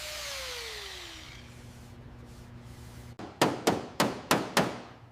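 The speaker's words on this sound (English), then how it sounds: "Every dent and battle scar on the body is expertly hammered out until the body lines are perfectly straight" Work on a 1970s classic car body: a power tool whirs down, then a hammer strikes the metal five times in a quick, even rhythm, each blow sharp and ringing, with no talk.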